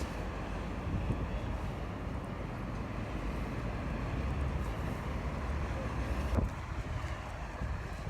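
Strong wind roars steadily across the microphone at a bus stop in Minsk, a continuous rushing noise that gusts slightly throughout without letting up.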